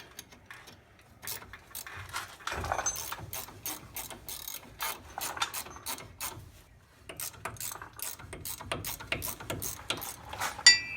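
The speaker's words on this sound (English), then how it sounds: "I'll be using a 15mm ratchet." A 15mm ratchet works on a Silverado wheel bearing: bursts of rapid clicking pawl strokes, close and fairly loud, repeating in uneven runs with short pauses and faint metallic clinks.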